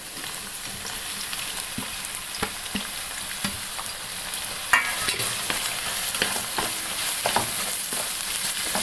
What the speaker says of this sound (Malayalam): ചൂടായ എണ്ണയിലേക്ക് സവാള ഇട്ട് കൊടുക്കാം.